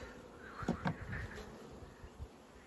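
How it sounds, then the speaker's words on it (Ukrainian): Honey bees buzzing close by in front of a hive, a few brief louder passes over a soft background hum. "Струсимо всю бджолу перед вуликом."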